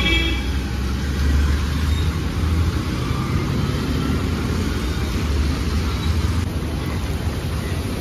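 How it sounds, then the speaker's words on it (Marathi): A bus arrives on a rainy morning street, its engine a steady broad rumble with rain hiss, continuous and fairly close, with no voices. "आता ही बस आली, पाहूया ही बस आहे का।"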